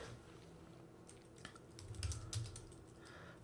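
Quick, light key taps on a computer keyboard sound close and faint in a quiet room, coming in short irregular bursts as a name is entered into a library circulation system.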